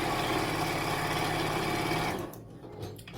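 A sewing machine runs steadily while stitching quilt rows with nested seams for a snowman quilt border, a dense continuous whir that stops abruptly near the end, leaving a quiet room.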